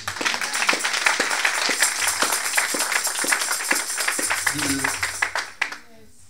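A church congregation claps together in a steady, fairly loud burst that fades out near the end, with voices calling out over it.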